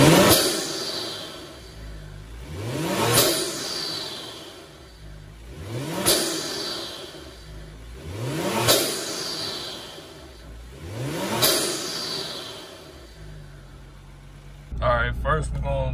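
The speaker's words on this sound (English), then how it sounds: "First, we're gonna see what it sounds like while I'm driving inside the car" Inside a Kia Stinger GT fitted with an Injen intake, the engine repeatedly swells and pulls through the gears in rising surges, with drops between the shifts. The car's own steady hum lies under it, and there is no talking.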